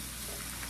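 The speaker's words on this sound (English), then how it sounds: "It's kind of frying with the pork fat and onions." Pork belly frying with onions in rendered pork fat in a home kitchen, a steady, soft sizzle filling the short moment with no talking.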